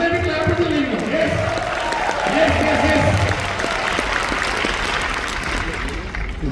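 An audience claps steadily and fairly loudly throughout a motivational talk, with a voice speaking over the sustained applause.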